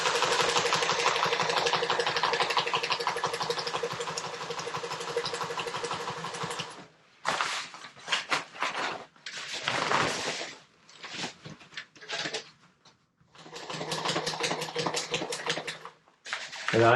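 A sewing machine stitches the hems of a jib sail with heavy number 92 UV-protected thread, running in a steady loud mechanical whir with several brief stops and restarts.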